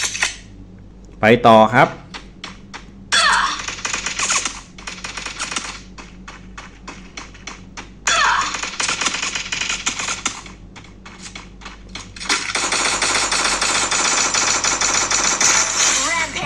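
Video game gunfire comes in rapid bursts of sharp, close shots with pauses between volleys, ending in a long sustained barrage, while someone speaks briefly.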